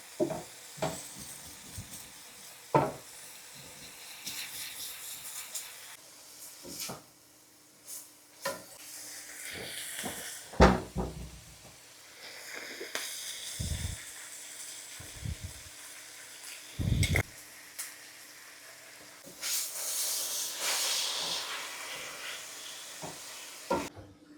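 Green beans are tipped into a hot pan and sizzle, with scattered stirring scrapes and clatter, bursts of hissing frying and brief clunks set against a quiet kitchen background, and no one talking.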